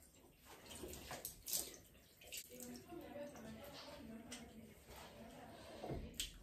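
Lukewarm water splashing as a face is rinsed by hand, soft irregular splashes and trickles at close range, with some faint breathy movement noise.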